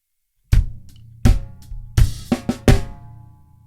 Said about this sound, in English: we play 4 on the floor, so quarter note bass drum